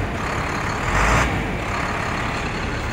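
A 2006 International box truck with an automatic transmission revs its engine in a steady broadband roar that swells briefly near the middle, loud and close with no talk.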